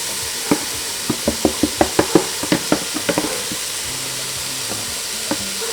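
Vegetables and minced cauliflower rice stir-fried in a hot pan, a steady sizzle under a run of sharp spatula scrapes and clicks that come in quick bursts, then thin out near the end.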